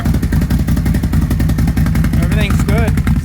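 A vehicle engine runs loud and steady with its exhaust rumbling, checked for exhaust leaks, rattles and rubbing, a dense continuous roar with a brief whine near the end.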